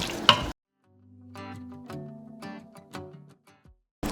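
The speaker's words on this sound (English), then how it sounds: "So just stir this together." A spoon stirs homemade cream of mushroom soup in a pan, scraping and squeaking against the metal in short, close strokes, with a soft sizzle beneath and no talking.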